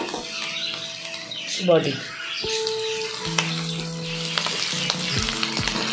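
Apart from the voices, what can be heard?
prawns frying with elephant foot yam and potato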